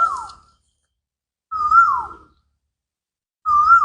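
A bird gives three clear, descending whistled calls, evenly spaced with silence between, fairly close and alone.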